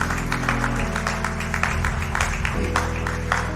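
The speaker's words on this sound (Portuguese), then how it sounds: "você aplaude ao nome do Senhor Jesus" A church congregation claps along in rhythm for a few seconds over a sustained musical backdrop, the steady patter of many hands moderately loud throughout.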